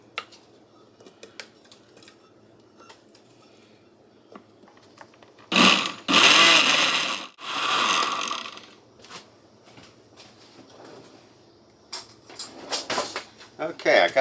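A small blender whirs through thawed frozen strawberries in a few loud bursts of a couple of seconds each, with quieter kitchen handling noises and clatter before and after.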